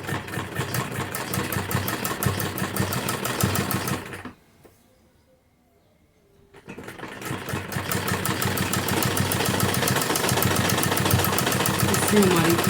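Sewing machine stitching a frill onto a kurti, a steady rapid mechanical whirr running loud and close, pausing for a couple of seconds before starting up again.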